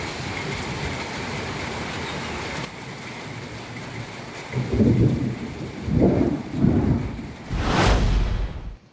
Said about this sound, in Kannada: ದೊಡ್ಡ ಪ್ರಮಾಣದಲ್ಲೇ ಮಳೆ ಸುರಿಯುತ್ತಿದೆ